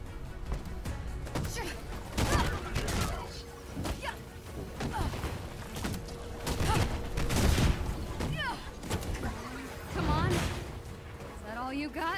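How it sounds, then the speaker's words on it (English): Enemy grenades exploding in combat in Marvel's Avengers, a series of heavy booms and crashes scattered through the scene, mixed with gunfire and impacts while someone talks over the action. "Are you throwing grenades at me?"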